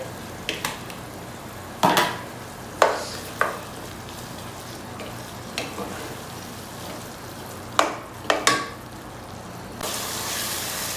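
Masala being fried and stirred in a pan for karela chicken, a quiet sizzle underneath with about a dozen sharp scrapes and clinks of a spoon against the pan at irregular intervals, and no talking.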